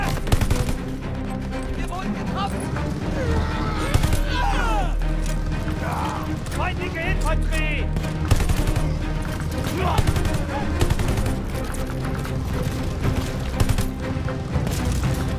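Machine gun fire and explosions from the Call of Duty Vanguard campaign on PS5, a loud, dense battle mix of bursts and booms running throughout under shouted voices.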